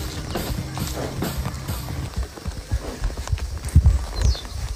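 A horse's hooves clop past on a village farm track, irregular hoof strikes that grow louder and heavier toward the end, heard fairly close amid outdoor background noise.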